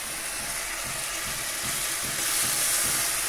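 Spice paste of ground cumin, ginger, garlic and garam masala frying in oil for a Bengali rui fish curry, giving a steady close sizzle with faint rhythmic stirring scrapes that swell slightly louder near the end.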